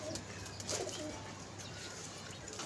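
A pigeon released upward by hand, its soft cooing and a brief wingbeat burst rising over steady background hum, close and fairly quiet.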